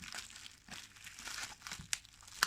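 Tape peels off the box of a Remington F4 Style Series F4000 shaver, a faint crinkly tearing with a few sharp snaps near the end.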